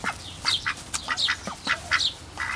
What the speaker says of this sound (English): See, my poor disabled duck